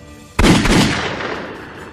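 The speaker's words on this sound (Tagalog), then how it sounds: "Dalawang putok ang umalingaw-ngaw sa kawalan." A sudden loud gunshot blast cracks out and then trails off into a long, echoing decay, with no talk.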